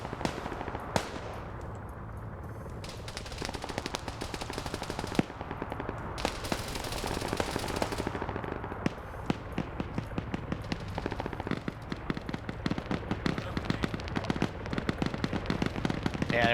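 A minigun fires in a video game ship-breach mission, with dense rapid-fire bursts that start sparse and build into a near-continuous, loud stream of sharp cracks over rumbling background.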